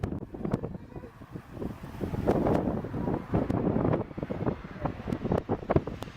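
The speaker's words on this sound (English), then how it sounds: "Look at this crazy wind." Strong, gusting wind roars and buffets the microphone during an aircraft's approach and landing, loud and continuous with surging bursts and no voices.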